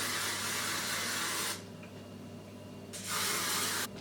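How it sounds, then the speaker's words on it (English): Hairspray from an aerosol can is sprayed onto curled hair in two close, steady hissing bursts, the first about one and a half seconds long and the second shorter, with a quiet pause between. "After I've curled it, I get the hairspray"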